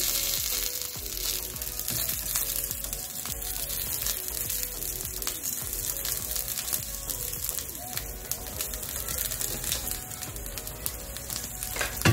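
Bay leaf and cumin seeds sizzle steadily in hot oil for a Bengali prawn malai curry, a continuous close crackling fry with faint stirring.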